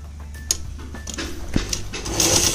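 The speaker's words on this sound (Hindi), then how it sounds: "फिर हम इसके ऊपर एक प्रेस सिलाई लगा लेंगे" A sewing machine runs a press stitch along the edge of a kurti neckline, producing uneven mechanical clatter and ticking that builds toward the end, close up with no speech.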